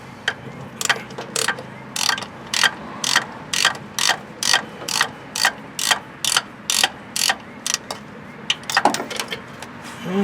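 Ratchet wrench tightening a starter bolt on a 2002 Ford F150 with a 4.2L V6, a steady series of about twenty short rhythmic clicking strokes, close and clear, with a faint voice near the end.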